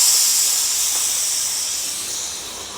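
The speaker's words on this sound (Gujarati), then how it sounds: "કુકરમાંથી હવા કાઢી" Steam hisses steadily from a pressure cooker after the whistle, a close, broad rush of air that slowly fades over a few seconds with no talk.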